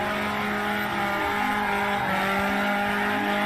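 A car doing a burnout screams with a harsh, sustained tire squeal over a revving engine, loud and close throughout the few seconds.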